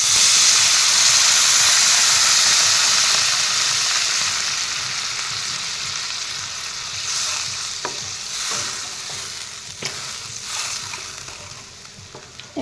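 Curry sizzling and frying loudly in a pan just after water goes in, a strong steady hiss that slowly softens, with a few sharp stirring scrapes near the end.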